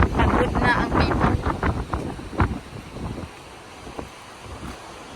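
Strong outdoor wind buffets the microphone in gusty bursts while jogging, loudest at first and then easing to a softer rush.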